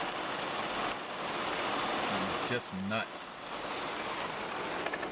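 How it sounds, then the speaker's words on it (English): Heavy rain pours and streams off a car windshield during a downpour at an outdoor trail race, a steady broadband wash under a voice speaking briefly. "it is raining like crazy"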